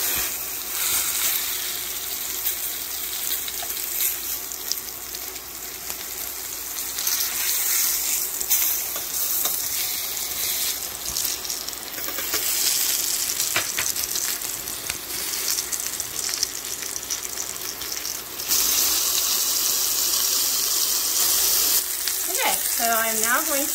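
Dredged boneless pork chops fry in a hot pan, giving a loud, steady, close-up sizzle that crackles on without a break for the whole stretch.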